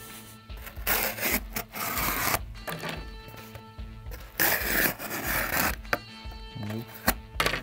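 A Blade Brothers Navahero knife with a 5 mm spine cuts through cardboard in repeated close, rasping strokes, with scraping and tearing bursts separated by brief pauses.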